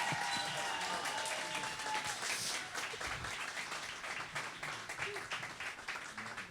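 A room applauds the first runner-up at a young sommelier competition final with steady, moderately loud clapping from a modest crowd, which swells briefly and then carries on at an even level with individual claps standing out near the end.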